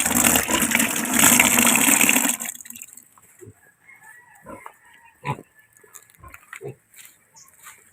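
A sow with her piglets in a pen grunts in short irregular bursts after a loud stretch of broadband rushing noise, the grunts close and scattered through the quieter part.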